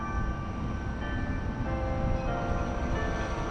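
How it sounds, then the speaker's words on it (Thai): Church bells ring with sustained overlapping tones over a low, steady rumble of traffic or a passing train. "ได้ยินไหมเป็นเสียงะระฆัง"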